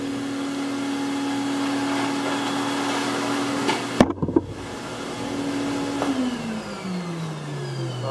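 A vehicle backing up a homemade 5x10 teardrop camper trailer, with a steady mid-pitched engine drone throughout, a few brief clunks partway through, then the engine note sliding lower as it eases off.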